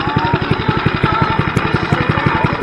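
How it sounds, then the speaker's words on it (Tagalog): A stand-up scooter's small engine idles close by with a rapid, even putter, loud and steady throughout without any talking. "ito naman yung tunog ng engine ko na naka-minor"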